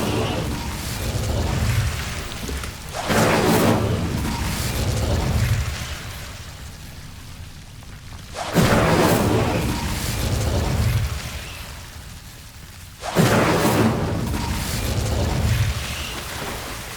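Incendio fire spell cast in Hogwarts Legacy, three bursts of fiery whooshing blasts several seconds apart, each swelling and fading under a low rumbling background.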